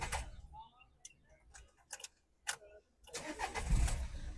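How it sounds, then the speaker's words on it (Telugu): A 2016 Renault Duster RXS starts on a single crank: a few quiet clicks and ticks, then the starter whirs and the engine catches and rises into a close, steady idle. "సింగిల్ సెల్ఫ్లో అయితే కార్ స్టార్ట్ అవుతుంది"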